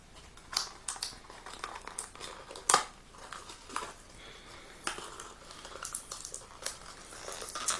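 Small gift box packaging is cut open with scissors, with a run of close, quiet snips, crinkles and rustles at an irregular rhythm.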